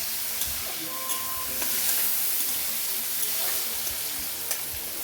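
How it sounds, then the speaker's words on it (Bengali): Fish frying in a pan sizzles steadily at close range, a dense crackling hiss with scattered sharp pops and occasional light scrapes of stirring, no voices. "মাছটা ভাজা হোক"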